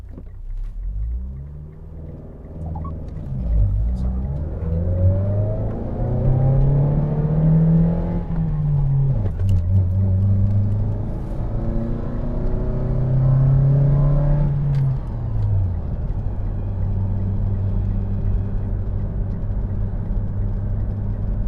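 A Mitsubishi Lancer's engine runs steadily at close range with a constant rumble, rising and falling in pitch as it revs and accelerates through several gear changes over about twenty seconds, with no talk.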